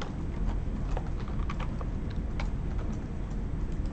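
Typing code on a computer keyboard, a quick, irregular run of light key clicks near the microphone, with no talking.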